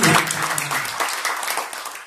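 Congregation applause at a Family Blessing church service in Kelapa Gading, Jakarta, a dense burst of clapping that starts loud and holds steady with little break across the short stretch.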